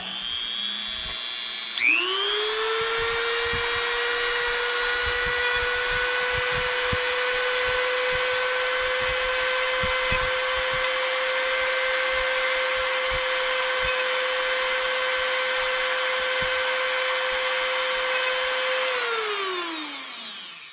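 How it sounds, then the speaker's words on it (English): A power tool polishing AR15 trigger parts, spinning up sharply after about two seconds into a steady high-pitched whine that holds for some fifteen seconds, then winds down, loud and close with faint scraping beneath. "you can polish that until you're blue in the face if you really want to"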